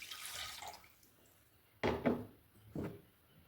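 Strained lemon juice being poured for a lemon pickle, two or three short liquid splashes and gurgles close by after a quiet stretch.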